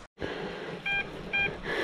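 Metal detector giving a signal beep beside a stream while prospecting for gold: two short steady electronic tones, clear and close, over faint outdoor background.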